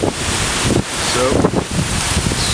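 Strong gale-force wind buffets the microphone outdoors, a loud continuous roar with gusty rumbling surges and no letup, while a voice is faintly present underneath.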